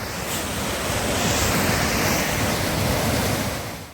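Turbulent floodwater surging through the narrow river channel at the Strid, a loud, continuous broadband roar of rushing water with wind buffeting the microphone, steady throughout and easing slightly at the end.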